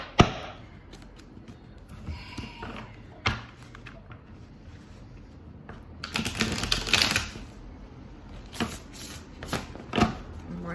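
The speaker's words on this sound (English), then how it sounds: "Let me just do a quick shuffle." Tarot cards are riffled and tapped in quick, papery bursts, with a longer flurry of shuffling midway, quiet and close.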